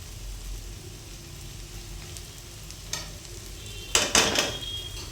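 Coconut chicken fry masala with chilli powder in a pan, sizzling quietly, then a few sharp scraping stirs near the end.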